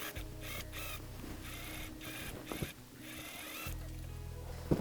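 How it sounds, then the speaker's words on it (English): A sewing machine stitches a seam on a princess dress, its motor humming steadily in two runs separated by a brief lull, fairly quiet and close. "And now we can sew this seam together as well."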